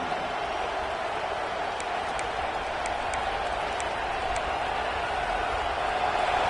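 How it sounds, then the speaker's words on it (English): Stadium crowd noise from an LSU football game: a broad, steady roar of a large crowd at a distance, fairly quiet, with a few faint higher sounds poking through. "This crowd bringing the energy and noise early."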